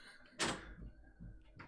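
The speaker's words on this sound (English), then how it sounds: "And Oliver's found the door." A door opens or closes nearby with one sharp thump and scrape, then quieter knocks and rattles follow. There is no clear talking.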